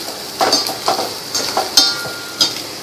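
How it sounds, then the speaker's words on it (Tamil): Chopped green chillies sautéing in a pan for a fish dish, with a sizzle and a series of about six rhythmic scrapes and clinks of a spatula against the pan, close and clear. "இதையே நல்லா வதக்கிங்க"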